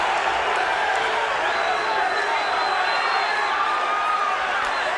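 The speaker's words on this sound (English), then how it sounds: "The crowd is chanting USA" A 1995 UFC arena crowd roaring and chanting during a fight, a loud, steady wall of massed voices with rhythmic chanting throughout.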